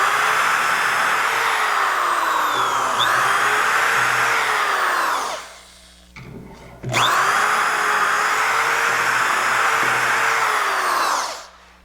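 A power drill bores dowel holes through a Dowelmax jig for a mirror frame, a loud steady whine that runs about five seconds, winds down and stops briefly, then spins up again for another long, even pass.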